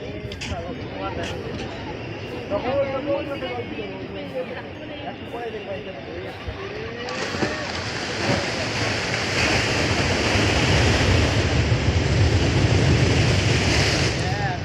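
Sea waves break on a beach in a steady broadband roar mixed with wind buffeting the microphone. The surf grows louder and fuller in the second half, with faint voices in the background.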